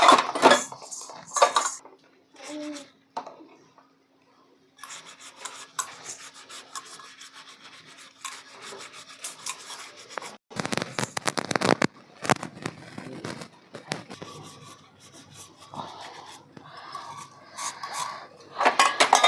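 Brass pooja vessels are scrubbed with lemon and tamarind: repeated rough rubbing and scraping strokes in bursts, with metallic clinks and pauses between, close and fairly quiet.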